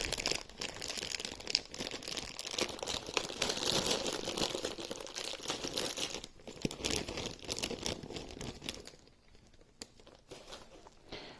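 Crinkling and tearing of basic packaging as a Gaggia Classic Pro steam wand upgrade is unboxed, with close, busy rustles through most of the clip before it quiets near the end.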